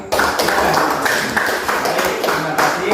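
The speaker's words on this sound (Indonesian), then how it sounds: "kita berikan aplaus untuk kita semua" A classroom of students applauding together, a dense burst of many hands clapping close by for about three seconds, fairly loud and steady.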